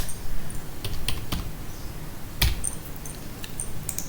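Fingers type a Python print statement on a computer keyboard, a quick irregular patter of clicky keystrokes with one sharper strike midway, close up over a steady background hiss, no voices.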